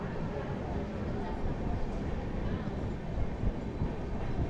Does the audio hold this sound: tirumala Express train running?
yes